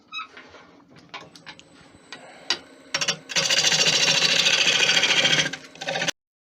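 Wood lathe hollowing out an Irish ash bowl, starting with light intermittent scraping and tapping, then a loud steady cutting hiss for about three seconds before it stops abruptly.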